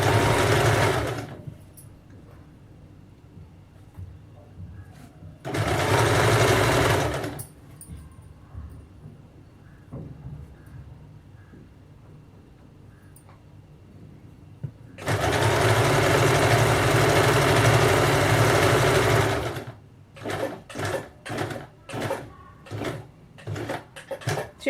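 An electric sewing machine stitches the seams of a salwar (ladies' pant), two longer bursts of fast, steady whirring separated by quiet handling, then a series of short stop-start stitch runs near the end.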